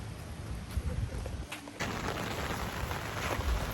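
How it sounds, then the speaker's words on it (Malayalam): Rain beginning to fall at Bekal Fort, a hilltop fort in Kasaragod, as a steady broadband patter that thickens partway through, with brief distant background sounds and no speech. "ആണ്ടേ ഇവിടെ വന്ന് ഇറങ്ങി മഴ തുടങ്ങി."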